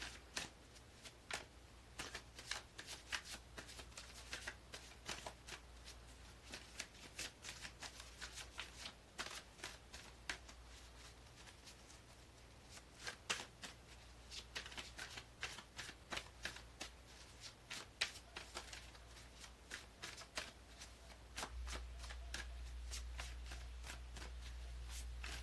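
Playing cards shuffled by hand over about 25 seconds, soft riffles and flicking in an irregular, continuous rhythm, close and quiet, with a low hum growing toward the end and no voice.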